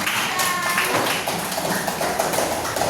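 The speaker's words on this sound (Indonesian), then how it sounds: "Berikan aplaus untuk." A class of students applauding during a practice teaching session, making dense, steady clapping that fills the whole stretch at close range.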